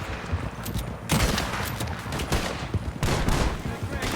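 Gunfire in the video game Red Dead Redemption II during a shootout; dense, rapid volleys of overlapping gunshots crackle continuously, loud and close, in bursts with short lulls, with faint game voices beneath.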